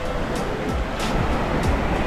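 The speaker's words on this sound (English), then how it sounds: "Feet are in the waves." Ocean surf at Pataua North beach in Whangarei, New Zealand: a steady, close wash of waves with soft breaking swells rolling in every second or so, heard alone.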